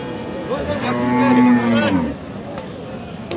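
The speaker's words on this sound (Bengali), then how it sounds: "এই পাশে কিছু বিগ সাইজের গরু আছে" A single loud, drawn-out cow moo close by, lasting about a second and a half, followed by background murmur of a busy cattle market at Aftabganj, Dinajpur.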